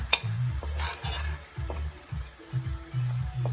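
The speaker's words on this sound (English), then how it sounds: "Again, give that a good stir." A spoon stirs Kashmiri and chili powder into crab curry frying in a pot, giving repeated scraping strokes in a loose rhythm over a steady soft sizzle, close and moderately loud, with no voices.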